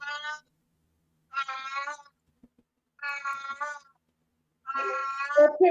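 A house cat meows repeatedly in four drawn-out, clearly pitched calls spaced by short pauses, close and fairly loud, with the last call overlapped by a brief voice.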